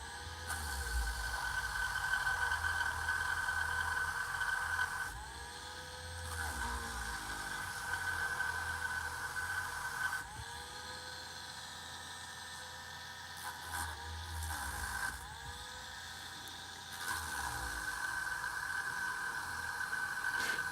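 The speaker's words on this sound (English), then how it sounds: "I wish this Dremel tool had a reverse switch on it." A Dremel rotary tool sands the belt of a plastic He-Man action figure, giving a faint, steady high whine with a gritty hiss that dips and surges as the tool is pressed and lifted.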